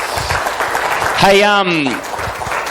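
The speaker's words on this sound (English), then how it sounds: "can we please give a huge round of applause to Catherine Molloy?" An audience applauds Catherine Molloy at a communication boot camp, the clapping forming a steady wash beneath a loud voice that calls out briefly in the middle.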